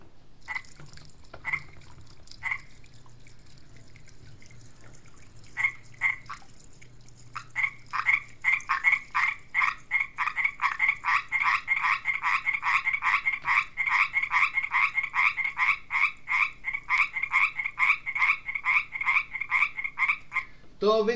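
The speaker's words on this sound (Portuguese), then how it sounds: "a diferença no coachar da rã quando ela está a convencer" A frog croaks repeatedly while courting a female, starting with sparse isolated calls, then settling into a steady rapid train of bright pulsed croaks, loud and close, with a faint low hum underneath and no voices.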